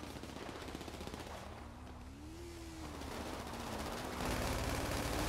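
Rapid Uzi submachine gun fire in Grand Theft Auto, a continuous rattling stream of shots over a droning vehicle engine, loud and steady with no talking.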